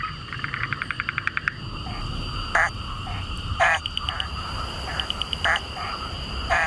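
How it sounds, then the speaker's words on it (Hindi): A forest frog chorus in the Western Ghats at monsoon's start: a quick train of pulsed croaks, then spaced louder bursts over a constant high trill and rustling background, with no voices. "पूरा जंगल मेंढकों की टरटराहट से गूंज उठा है।"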